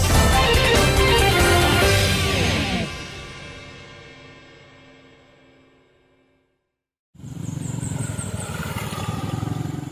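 A motorcycle rides on a badly damaged village road in Mesuji, Lampung. The engine drones loudly up close, then fades away into near silence before another loud engine roar bursts in abruptly.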